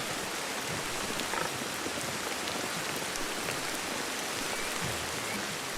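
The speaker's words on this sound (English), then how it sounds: "let's make this arduous trip in the rain" Steady, dense rain pours down in the video game Ancestors: The Humankind Odyssey, an even hissing wash of drops on surfaces that continues unbroken throughout, with no talk.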